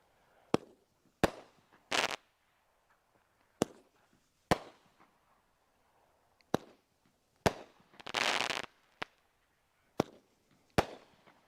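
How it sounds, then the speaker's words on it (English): Sharp firework bangs ring out at irregular intervals, a dozen or so loud pops with a couple of longer crackling bursts, outdoors with quiet between. "That's how long this firework is lasting."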